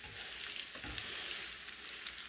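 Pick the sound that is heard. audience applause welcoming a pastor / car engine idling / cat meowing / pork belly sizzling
pork belly sizzling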